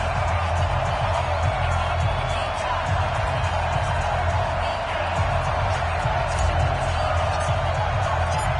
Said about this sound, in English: This crowd is ready as their guys get set to match up between the Washington Redskins and the New York Jets.